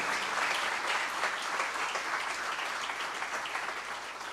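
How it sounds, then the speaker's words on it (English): An audience at a college induction and orientation program for first-year B.Tech students applauds, a steady dense crackle of many hands clapping that holds for several seconds, fading slightly toward the end. "So I think with a big round of applause for Professor Kapse."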